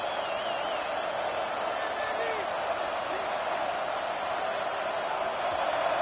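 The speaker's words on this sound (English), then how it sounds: "Listen to this crowd just shaking the girders of this place, trying to help their defense." A steady, dense roar from a packed stadium crowd in a college football video game, Arizona State Sun Devils against Oregon, holding an even, unbroken wash of noise throughout.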